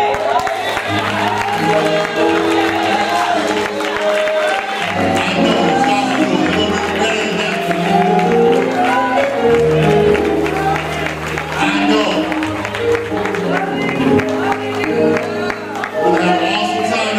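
A church congregation applauds and cheers during a Friday night service, a dense continuous wash of clapping and voices over loud music and singing for the whole stretch.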